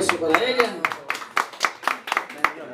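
Scattered hand claps from a small birthday gathering with a mariachi group, irregular individual claps spread across a few seconds, close and fairly sparse.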